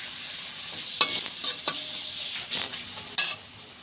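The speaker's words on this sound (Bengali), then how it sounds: "এবার নেড়ে নেবো একটু।" Egg and spices frying in a pan while being stirred, a soft sizzle broken by several sharp utensil scrapes and clinks against the pan, close by, with no talk.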